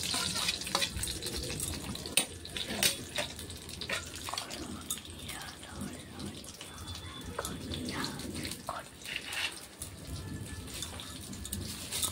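Mustard seeds, garlic and chili spluttering and crackling in hot oil over a wood-fired stove, a steady busy sizzle with scattered sharp pops throughout, no voices.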